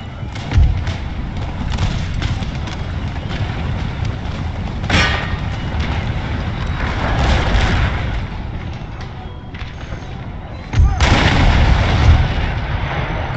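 Musket volleys and artillery fire crack and boom through a game battle at Quebec, a dense loud barrage of overlapping shots with heavy thumps near the start, around five seconds and again past eleven seconds.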